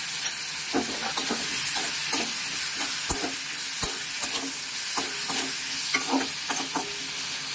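A spatula scrapes and stirs pumpkin with green chillies, salt and turmeric in a hot pan, a rhythmic series of clacks and scrapes over a steady frying sizzle, close and fairly loud.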